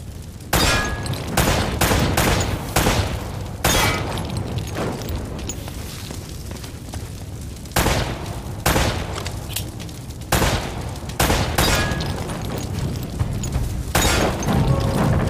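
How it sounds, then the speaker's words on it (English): Gunshots and shattering lamps in Uncharted: Drake's Fortune, sharp loud bursts repeating in irregular clusters over a low, steady game ambience with no voices. "Try shooting one of those lamps down."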